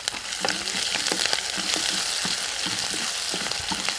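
Chopped garlic, ginger and green chillies fry in coconut oil. A steady, close crackling sizzle is broken by repeated spatula scrapes and taps.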